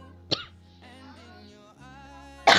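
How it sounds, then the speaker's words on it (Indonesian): A single sharp cough bursts out near the start, followed by a quiet pause and then another short, harsh cough at the very end. "Sorry ya, gue batuk."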